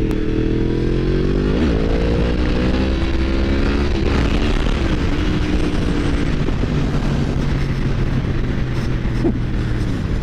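Yamaha MT10 motorcycle on the move over rough roads, a loud continuous engine drone with rising and falling pitch as it revs and shifts, mixed with heavy wind rush.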